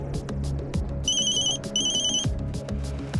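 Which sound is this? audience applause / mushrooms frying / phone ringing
phone ringing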